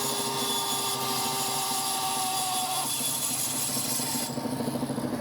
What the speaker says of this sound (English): take this piece to the bandsaw and cut it